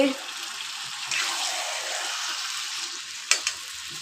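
Broiler chicken frying in a pan and being stirred, a steady hissing sizzle with a couple of sharp utensil knocks near the end, close and fairly loud.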